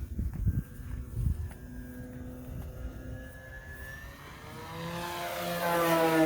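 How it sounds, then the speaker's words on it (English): The noisy propeller of an E-flite Carbon Z Cub SS 2.1 m RC plane drones overhead, rising in pitch and growing louder as it nears, after some handling thumps close by. "prop being noisy again"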